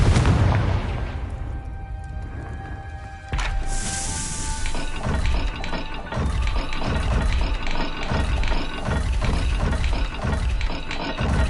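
Bombarda and Confringo spell blasts in Hogwarts Legacy, a string of loud, booming explosions and crackling bursts following one another rapidly over a dense layer of game sound, with no talking.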